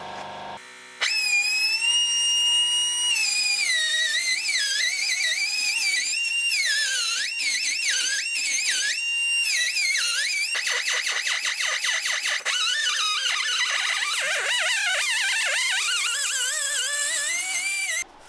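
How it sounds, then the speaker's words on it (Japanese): A high-pitched die grinder whines continuously while grinding the port entrance of a Caterham Super Seven engine cylinder head, its pitch wavering and dipping as the bit bites into the metal, loud and close throughout. "それじゃあ削っていきます。"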